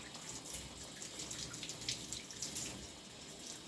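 Water from a tap runs steadily while a puppy is rinsed during a bath, a soft, continuous splashing flow with no talk.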